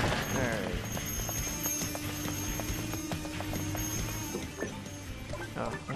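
Rhythmic hoofbeats clip-clop steadily as a ghostly horse gallops in Disney Infinity on Wii U, set against a busy layer of game music and effects.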